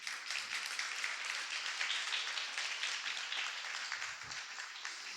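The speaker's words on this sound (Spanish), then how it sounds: "Nuestra tortuguita se merece un aplauso por haber llegado al agua, ¿no?" A large audience claps for a small turtle that has reached the water, during a coastal restoration talk in Málaga; even, continuous applause, fairly faint and distant, with no speech.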